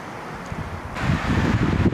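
Gusty wind buffets the microphone outdoors at the Grand Canyon, a low rumbling roar that strengthens partway through and keeps surging.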